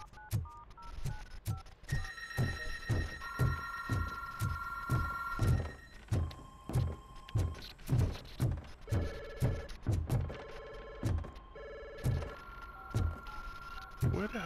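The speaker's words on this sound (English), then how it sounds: "Oh, the phones was ringing in the game." Telephone bell ringing inside the Robocop: Rogue City video game, repeated rhythmic rings with tonal bursts over about fourteen seconds, mixed with thumps and a person talking intermittently.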